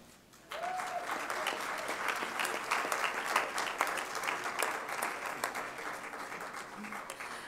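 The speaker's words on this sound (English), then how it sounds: "please join me again in a big round of applause for all of our 2015 Lifetime Achievement Award winners" A room of attendees bursts into applause for 2015 Lifetime Achievement Award winners: after a brief quiet lead-in, sustained clapping swells and holds, with a short voiced sound near the start.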